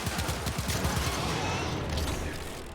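Akbasto pistols in Warframe firing in a fast, steady stream of zippy shots, the rapid rhythm holding for nearly three seconds at close range before easing off at the end.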